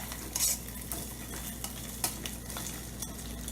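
Browned Spam stirred into mac and cheese in a small titanium camping pot, soft scraping and clinks of a utensil against metal with a faint sizzle, close but quiet.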